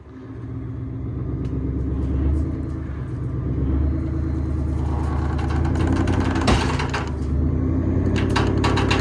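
A vehicle engine rumbles steadily while pulling a John Deere 350 onto a trailer with a rope, with a low idle and revving drone throughout, some creaks and knocks, and a sharp crack near the middle.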